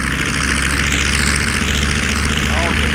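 Twin radial engines of a B-25 Mitchell warbird run up to 1,700 RPM, a loud, steady, dense roar filling the whole span with no break.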